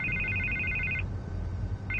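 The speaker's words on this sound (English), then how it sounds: "I can't get the phone to stop ringing." Telephone ringing in the Batman Telltale video game: a bright electronic trill repeating in two bursts with a short gap, over a low room hum, no talk.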